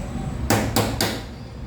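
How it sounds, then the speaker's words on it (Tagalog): Three sharp metallic hammer strikes on a Mitsubishi Montero Sport starter motor in quick, even succession, close and fairly loud over a low background hum. "Tapos pukpok ulit."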